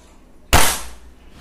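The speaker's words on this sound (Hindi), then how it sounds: "अब ये हम लोग चौथा शॉट चलाएंगे, ये चौथे शॉट की तैयारी" An NX200 air rifle fires a single pellet shot, a sharp loud crack that bursts out about halfway through and decays quickly, with quiet before and a short fading tail after.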